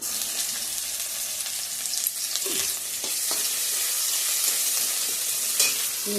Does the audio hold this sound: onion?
yes